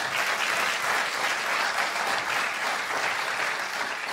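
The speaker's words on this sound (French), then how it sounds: "je crois que ça mérite vraiment nos applaudissements" Sustained audience applause at a West Web Festival talk in Brest, dense steady clapping from a crowd that stays loud and even throughout with no voices over it.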